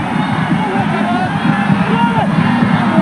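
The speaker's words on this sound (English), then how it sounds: "The crowd are screaming at them for to tackle." Rugby crowd at a 1996 Boland versus All Blacks match roars and shouts continuously, a dense distant stadium hubbub with rising yells over a commentator's voice.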